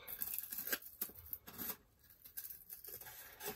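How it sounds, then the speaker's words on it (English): Scissors snip and rasp through paper while cutting out an art journal piece, a few close, quiet cutting strokes with short pauses between them. "Okay, that's dry, so I'm now going to cut it out."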